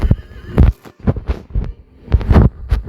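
A horse in a video game whinnies and snorts in several loud, close bursts, with rhythmic thudding between the calls.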